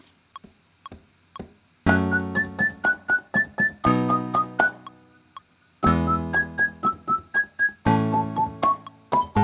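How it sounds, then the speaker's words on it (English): A whistle instrument patch in music production software plays a melody of bright, sustained whistled notes over a rhythmic backing, starting after a quiet tick-like count-in and repeating in phrases. "So I think I might actually go with this whistle sound."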